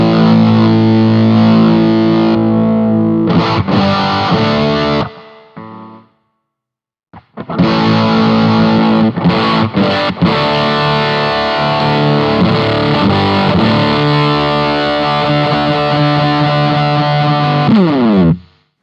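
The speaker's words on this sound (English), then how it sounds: "if I turn the fuzz on now with this cranked right up, we are noise city" A Hotone Britwind fuzz pedal cranked up drives a noisy, heavily distorted electric guitar through sustained chords and riffs, loud and saturated, with a brief silent gap partway through and no talk.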